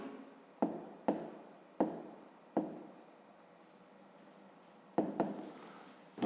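A math solution being written out by hand on paper, with short bursts of pen or chalk strokes in a quick rhythm, then a pause, then more strokes, close and fairly quiet.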